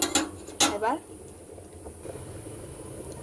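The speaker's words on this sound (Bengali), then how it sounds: "অল্প করে একটু নেড়ে নেব" Pointed gourd and mutton fat curry gets stirred in a pan: a couple of sharp spoon scrapes and clinks against the metal come first, then a soft, steady bubbling simmer. A voice is briefly heard.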